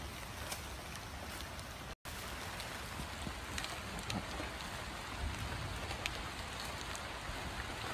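Rain falls steadily as an even, dense hiss of drops, with scattered louder drips and a brief dropout near the start.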